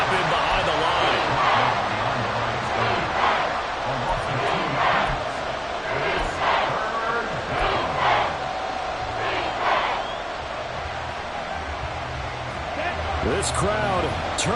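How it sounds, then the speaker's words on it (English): A stadium crowd at an American football game roars steadily in the background, a dense sustained wall of noise with scattered shouts, under continuous play-by-play commentary. "This crowd turning up the decibel level."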